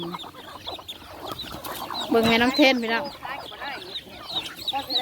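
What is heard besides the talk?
chickens clucking on a farm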